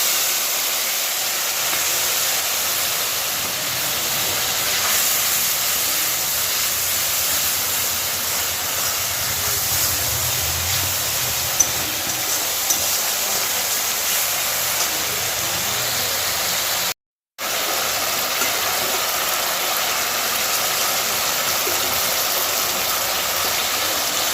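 Spice paste with bay leaf and cumin sizzling in a hot pan for rohu fish curry, a steady, loud broadband frying hiss continuing throughout with a brief break near the end.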